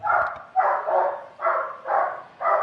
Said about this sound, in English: My dog is going crazy right now.